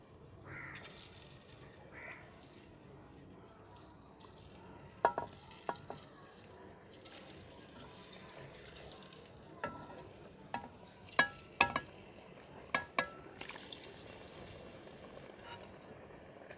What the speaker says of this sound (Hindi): और अब इनको हम फ्राई करेंगे